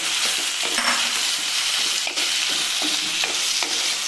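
Turkey berries that had soaked in buttermilk sauté in sesame oil in a pan, a steady close sizzle and crackle with occasional scrapes of stirring and no voices.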